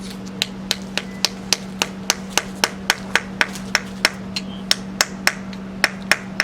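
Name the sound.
breaking apart plaster block of gemstone excavation kit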